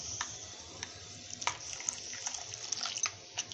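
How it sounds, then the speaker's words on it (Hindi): Water poured little by little into besan batter, a close, trickling flow with a few brief splashy bursts and no talking. "अब हम इसमें थोड़ा थोड़ा करके पानी डालेंगे इसमें,"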